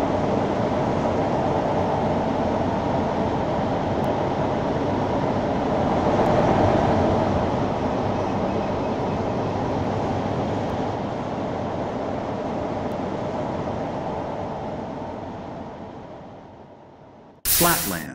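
A Minecraft automatic metro train on the Lake Loop Line runs along its rails with a steady, continuous rolling rumble and hiss that swells slightly midway and then fades near the end, with a brief burst just before it stops.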